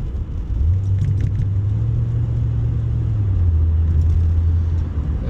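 A car rolling through town traffic gives a steady, close engine rumble with a smooth low hum that rises slightly before settling, heard from inside the vehicle with no talk.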